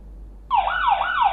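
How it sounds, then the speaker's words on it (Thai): A MOES solar 4G CCTV camera's built-in alarm siren starts abruptly and wails in a loud, close, rising-and-falling electronic tone that repeats in steady cycles. "เสียงไซเรน"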